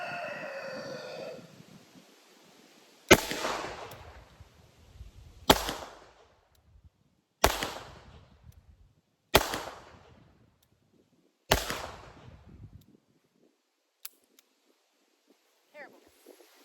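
Five sharp revolver shots fired at a target with light-recoiling wadcutter rounds, loud and evenly spaced about two seconds apart, each with a ringing decay, preceded by a brief tonal sound and followed by quiet.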